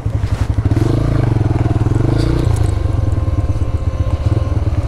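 A TVS Raider 125cc motorcycle runs with a quiet, steady pulsing engine note close by, faint clatter over the low rumble and no clear throttle surge.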